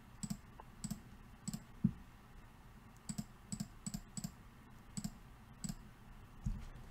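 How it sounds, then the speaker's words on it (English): A computer keyboard's delete key being clicked repeatedly during Inkscape design work, a series of light, sharp clicks in small irregular clusters, close and quiet. "And I'll click the delete key"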